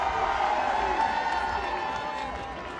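Large crowd at an anti-racism march in Paris, a steady wash of many voices and distant cheering heard through a loudspeaker address, with a speaker talking over it throughout.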